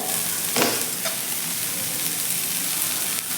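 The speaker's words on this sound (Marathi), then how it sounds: "आता यामध्ये आपल्याला गाजर घालायचे आहेत हे गाजर बारीक कट करून घेतलेले आहे ते घालून घेऊयात" Finely chopped carrots hit a hot pan for veg masala Maggi, a steady close sizzle with a couple of brief clatters from the additions and stirring.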